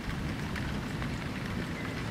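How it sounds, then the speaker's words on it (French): Heavy rain pouring down during a moderate-to-strong thunderstorm in Amboise, France, a continuous dense hiss of drops on surfaces, loud and close, with no voices. "Il pleut bien, hein. Il pleut."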